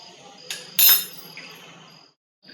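Ajwain and a pinch of soda are stirred into onion bhaji batter, with a couple of quick spoon clinks against the bowl followed by softer scraping, close by, before a short pause.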